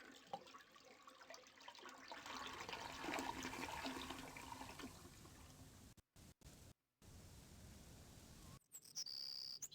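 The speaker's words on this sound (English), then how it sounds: "If I keep flushing the toilet, does something happen?" A toilet flushing in a video game, a loud rushing swirl of water lasting several seconds alongside a steady cricket-like insect chirp, then dropouts and a brief electronic tone near the end.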